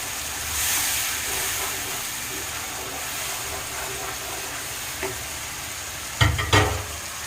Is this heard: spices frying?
yes